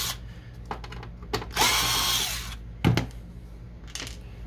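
Power screwdriver removing screws from an Epson Stylus Photo R280 printer, several short whirring bursts, one longer run, then a clunk and another brief spin, close up.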